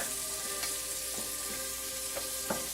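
A scallop searing in a hot pan gives a steady close sizzle and spit of frying, with a few light clicks of the pan and utensil and no talking.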